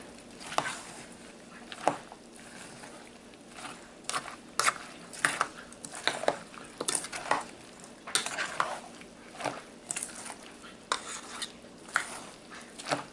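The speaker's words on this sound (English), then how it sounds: "And then we'll just mix it up." Chopped tomatoes for pico de gallo are stirred in a bowl, giving close, wet, squelching clicks and scrapes in an uneven rhythm over several seconds.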